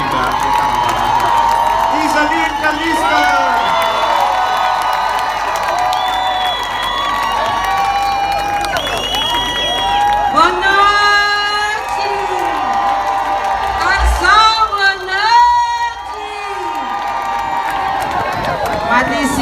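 A lively crowd at a night carnival-style event cheers, whoops and claps amid shouting voices and sung or called-out phrases, loud and close, with bursts of cheering rising and falling.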